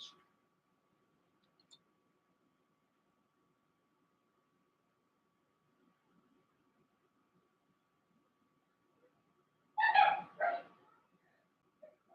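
Dogs let out a short burst of two or three close barks and yelps near the end, after a long quiet stretch with only faint background sounds.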